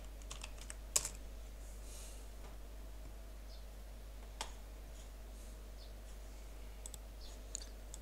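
Keys clatter on a computer keyboard while a username and password are entered for a website control-panel login, producing quiet, scattered clicks with a few sharper taps against a steady low hum and no speech.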